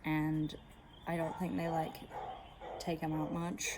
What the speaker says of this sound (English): really sorry for that dog barking in the background.